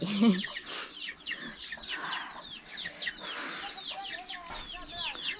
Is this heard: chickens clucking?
yes